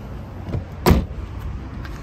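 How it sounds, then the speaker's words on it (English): The boot of a Vauxhall Astra 2.0 VXR opens with a brief mechanical clunk and whirr at about the one-second mark, against a quiet background with a soft earlier click. "Pressing the Vauxhall badge to open up the boot"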